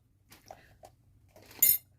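Roughly chopped vegetables tumble into a rinsed soup pot. There is a brief, fairly close clatter of pieces hitting metal, set apart by quiet moments and a few faint knocks.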